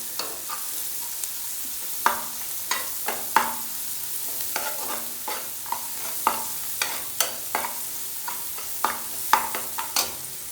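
Curry leaves sautéing in a pan for a milk upma, a soft steady sizzle broken by repeated sharp scraping and stirring strokes at an irregular rhythm throughout.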